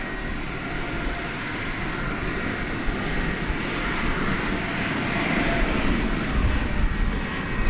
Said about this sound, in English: this plane is angling towards a east side takeoff